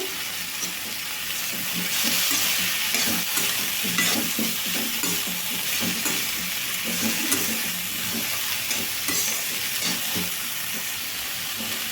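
Chopped ridge gourd with salt and turmeric frying in a pan over a medium flame, a continuous loud sizzle and hiss with repeated scraping stir strokes throughout.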